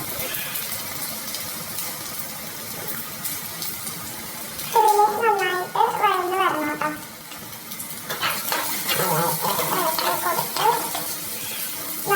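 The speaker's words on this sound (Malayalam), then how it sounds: "ഇനി നമുക്ക് സവാളയും പച്ചമുളകും ഇട്ട് കൊടുക്കാം." Onions and green chillies fry in hot coconut oil with a steady sizzle, joined by scraping stirring, while a voice talks briefly over it partway through.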